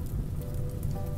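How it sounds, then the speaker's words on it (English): Steady rain falls in the RimWorld video game, a continuous dense patter of drops on a surface, fairly close and even throughout with no other sounds. "Oh, it's raining, that's why."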